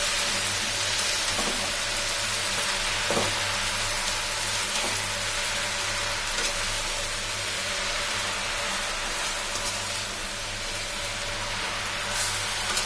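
Jute leaves (pat shak) frying in a pan while being stirred, giving a steady, even sizzle like light rain that runs unbroken and fairly loud, with a few faint scrapes, and no voices.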